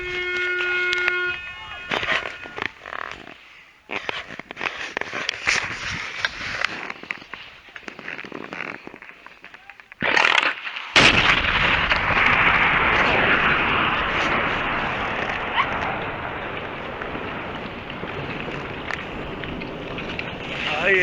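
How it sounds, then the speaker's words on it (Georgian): Blasting at the Sakdrisi ancient site in Georgia: after windy outdoor noise and some voices, a sudden loud blast hits about halfway through and turns into a long, heavy, roaring rumble that slowly fades. "აი ესე აფეთქეს საყდრისი"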